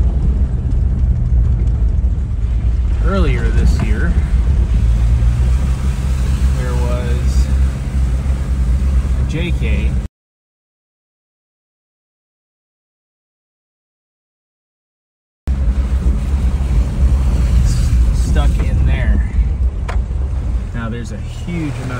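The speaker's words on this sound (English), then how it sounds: "And that water is moving fast." Fast-moving floodwater in Queen Creek, swollen to about 2.5 feet deep, makes a loud, steady broadband rush close by, which cuts out completely for several seconds midway and then resumes.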